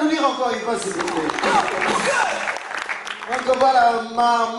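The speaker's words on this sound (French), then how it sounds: "On peut l'applaudir encore une fois, s'il vous plaît." Holiday club show audience clapping in a continuous, moderately loud burst, with a voice speaking and music-like tones threading through the applause.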